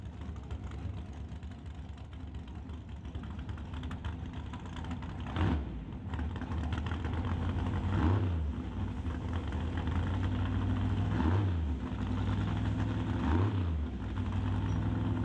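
At a drag strip, turbocharged and nitrous Radial Flyer drag cars in the Outlaw 275 class idle with a loud, rough, lumpy rumble throughout. Several sharper surges and pops recur every couple of seconds.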